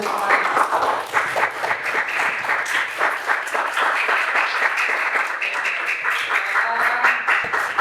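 Students in a lesson applaud together, a steady stream of close, fairly loud claps with a rhythmic texture lasting throughout, with some voices mixed in.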